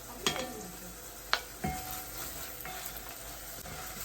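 Garlic sizzles in a pan of frying onions for Nigerian-style bolognese sauce, a steady soft crackle broken by a few sharp spoon clinks and scraping stirs against the pan.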